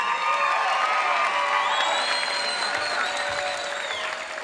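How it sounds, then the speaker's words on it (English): Loud, sustained applause from a large crowd at a boxing match after the final round, with scattered cheers and whistles, steady throughout before tapering slightly at the end. "please, a big round of applause for Vaughn Alexander and Ruben Cazales Jr."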